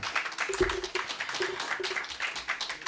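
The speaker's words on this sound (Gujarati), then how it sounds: "આપણે વક્તાઓનું તાળીથી અભિવાદન કરીશું." An audience claps to welcome two speakers onto the stage at a Gujarati literary lecture, a moderate, irregular patter of many hands with a few sharper close claps and faint murmur beneath.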